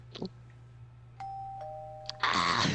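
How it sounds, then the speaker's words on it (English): A synthetic doorbell chimes in Minecraft, a clean two-tone ding-dong followed by a burst of bright, busy game sound. "We have a doorbell. Are you listening closely?"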